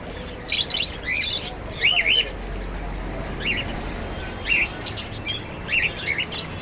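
Pigeons calling in short bright bursts, several chirping calls spaced through the stretch over steady background noise, moderately near.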